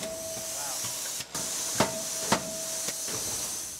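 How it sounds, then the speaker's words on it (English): A forging hammer press strikes a steel golf club head in a factory, three sharp separate impacts over a loud, constant hiss of steam and machinery. "it's a hammer press. So that's a hammer that actually comes down like a hammer and actually pounds it three times"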